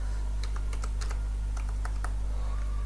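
Computer keyboard keys clack in short irregular bursts while code is typed, each press crisp and near, over a constant low electrical hum, with no voices.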